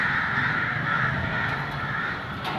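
Crows caw repeatedly against a steady wash of outdoor background noise, the calls moderately distant and overlapping.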